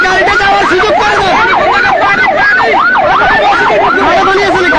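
A fire service vehicle siren wails loud and close, rising and falling steadily throughout, while responding to a market fire in Noakhali; faint voices sit beneath it.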